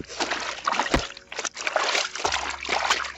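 Bed sheet washed by hand in water, with repeated sloshing, splashing and dribbling as the wet fabric is worked, close and fairly loud in uneven bursts.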